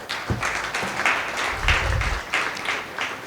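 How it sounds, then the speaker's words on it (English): Audience applause for speakers at a conference session, a steady mid-level spread of clapping from a crowd lasting a few seconds, with no talking over it. "Let's have a big round of applause for all the speakers."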